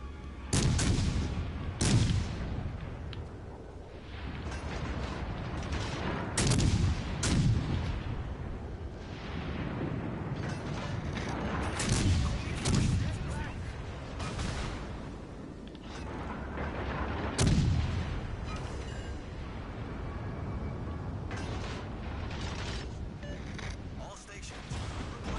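Warship main guns in a naval video game fire in heavy booming salvos every few seconds, each blast rolling out into a long rumble, with a voice talking in between.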